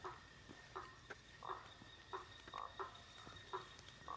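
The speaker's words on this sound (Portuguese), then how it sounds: "O sapo, o barulho do sapo, dos grilos, de tudo." Frogs croak in a steady, repeating rhythm at night, with a constant high chirring of crickets underneath and no voices.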